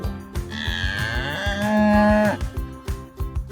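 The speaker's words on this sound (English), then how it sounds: "C is for cow." A cow gives one long, loud, close moo that rises and falls in the middle of the clip. Lighter rhythmic background sound runs before and after it, with no talk.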